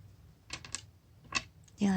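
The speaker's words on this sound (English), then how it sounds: "That's the sound of my buttons rasping against the table." Clothing buttons rasping against a table in a quiet room, a few soft scraping clicks in short clusters, close and faint, with a brief louder scrape at the end.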